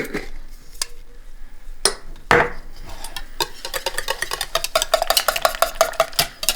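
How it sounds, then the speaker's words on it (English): Keto batter with a couple of tablespoons of protein flour and lumpy cream cheese is stirred in a bowl, giving steady, close scraping and clinking strokes that grow busier toward the end, with no talk. "I'm going to give that a nice stir"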